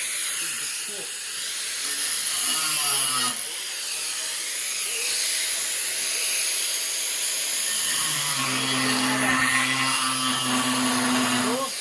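Steady steam hissing runs through the whole stretch, loud and close, with a low mechanical hum joining in near the end; voices are mixed in.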